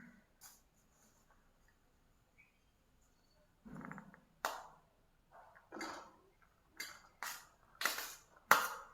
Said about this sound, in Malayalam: അപ്പം നമുക്കിത് പാത്രത്തിലേക്ക് കുറച്ചെടുക്കുക.